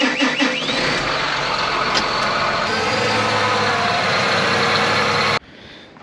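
A farm tractor backs a planter up to a shop, its heavy engine droning steadily with mechanical rattles and clanks, loud and close, before cutting off abruptly near the end.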